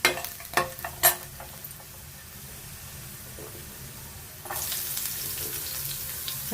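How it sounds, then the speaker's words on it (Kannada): Five or six garlic cloves sizzle in a pan. Several clinks and taps come first, then a low hiss settles in and swells into a louder, brighter sizzle near the end, with no voices. "ಸ್ವಲ್ಪ ಫ್ರೈ ಮಾಡ್ಕೊಳ್ಳೋಣ ಇದನ್ನ"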